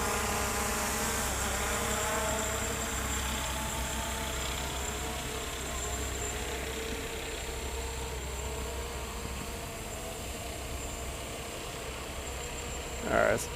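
The small motors of an Eachine EX2H drone whine steadily as it holds altitude outdoors, a continuous insect-like buzz with a faint engine-like undertone and no break.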